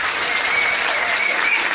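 A quiz-night crowd in a pub gives a round of applause, dense and loud, with many hands clapping at once in a steady, continuous burst.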